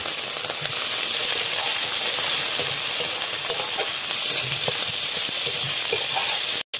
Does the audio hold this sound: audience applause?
no